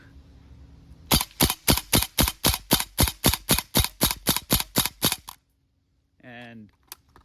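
Tokyo Marui Saiga-12K airsoft shotgun test-fired outdoors on a moist fall morning with its stock magazine: about fifteen sharp, evenly spaced shots in a rapid steady rhythm, close and loud, then a stop and a brief mechanical sound.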